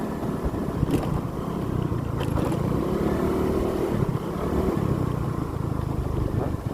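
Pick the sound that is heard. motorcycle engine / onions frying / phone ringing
motorcycle engine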